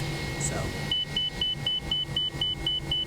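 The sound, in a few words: cockpit beep in X-Plane 11 Toliss A319, video game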